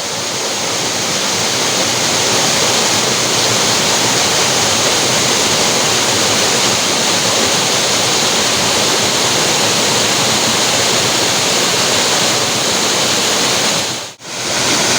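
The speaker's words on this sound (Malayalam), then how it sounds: "നല്ല അടിപൊളി വെള്ളച്ചാട്ടം." Small monsoon-season waterfall at Choriyankunnu pouring in a steady, loud, dense roar heard up close, unbroken apart from one brief dip near the end.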